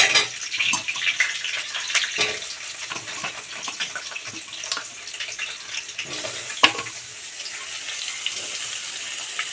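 Potatoes frying in a pan for a Bengali lunch of potato and pointed gourd posto, a continuous bright sizzle with scattered crackles and stirring scrapes, close and steady without talk.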